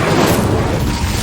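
The Incendio fire spell goes off in Hogwarts Legacy as a loud, dense, roaring whoosh and burst that sustains evenly through the moment, with no talk over it.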